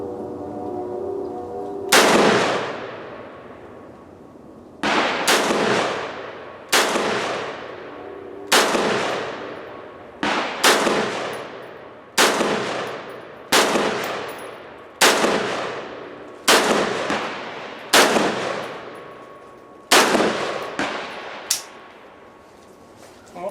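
A MarColMar Cetme L rifle fires a string of about a dozen loud single shots, each a sharp close crack with a long echoing decay, spaced at a fairly even pace of a couple of seconds apart.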